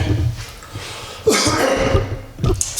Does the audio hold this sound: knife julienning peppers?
no